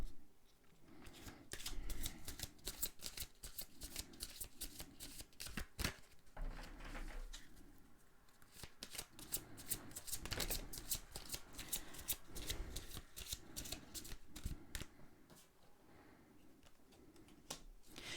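Angel oracle cards are shuffled by hand for a reading, close and fairly soft, repeated riffling and sliding bursts in uneven rhythm across the whole stretch, with no talking.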